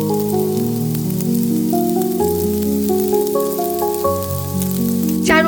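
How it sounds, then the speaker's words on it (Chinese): Beef tenderloin frying in a wok over medium-low heat with black pepper and salt, giving a steady, close sizzle that runs throughout beneath prominent background music. "牛肉煎到微黄"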